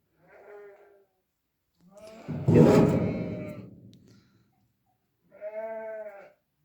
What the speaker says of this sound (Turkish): Koyunlar da dışarıda. Habire meliyorlar girmek için ahıra.